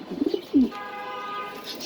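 Pigeons at a pigeon farm in Mirpur, Dhaka, give a few soft, low coos close by, followed by a quieter steady background hum.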